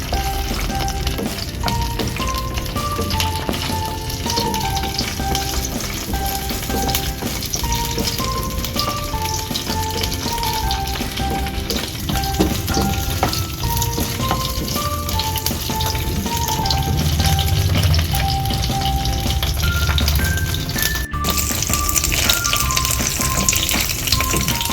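Raisins fry in hot ghee in a pan, a continuous soft crackling sizzle that runs steadily beneath a melodic background music track throughout.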